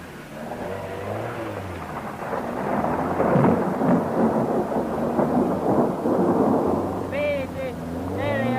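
Heavy rain lashes a flooded forest rally stage at the 1973 Jyskälä rally, a dense, steady roar with deep rumbling underneath that persists throughout, with brief tonal sounds near the end.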